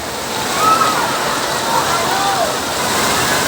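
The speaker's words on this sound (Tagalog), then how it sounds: "sobrang lakas ng ulan na mararanasan natin ngayon sa Rizal ngayong pagsapit ng gabi." Heavy evening rain pours down in Rizal, a steady broadband wash of water that stays loud and constant throughout, with a few faint tones rising over the downpour.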